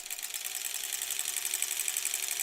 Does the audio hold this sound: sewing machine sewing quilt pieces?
yes